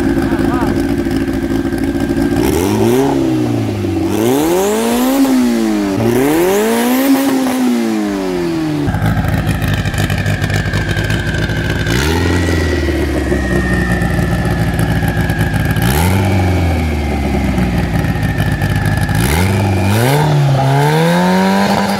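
A turbocharged Gacel car engine, tuned to over 300 hp, revs hard and loud in repeated swooping climbs and drops, with rough idling between the blips and a voice talking over parts of it.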